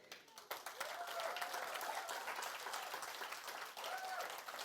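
Audience clapping at the BSN conference 2023 awards, a fairly faint but full burst of many hands that holds steadily for several seconds, with a few whoops or voices rising over it.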